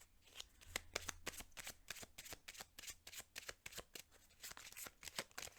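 Playing cards slap and flick in a quick irregular series of crisp snaps as cards come off a deck, close and fairly soft.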